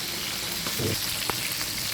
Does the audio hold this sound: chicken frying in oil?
yes